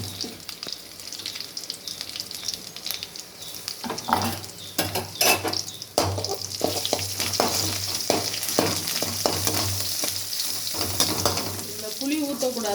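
Onions and red chilies sauté in a pan for a greens rasam, with a steady sizzle and scraping stirs throughout, a low hum underneath and a few utensil clinks near the end.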